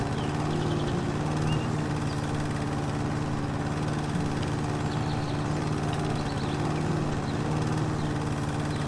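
A lawn mower cuts grass in the video game House Flipper, its steady engine drone holding an even, continuous hum from start to finish with no voices over it.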